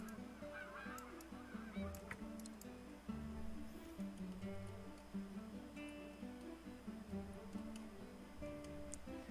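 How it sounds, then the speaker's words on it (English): Several geese honk at a distance, calls repeating irregularly over a steady background of outdoor ambience. "I heard geese."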